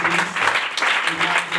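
Sustained applause from a church congregation at a Pentecost service, dense steady clapping filling the space throughout, with faint voices mixed in.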